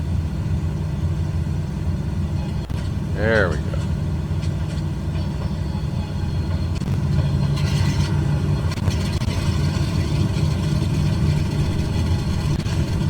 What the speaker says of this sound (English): we're going to get this right engine started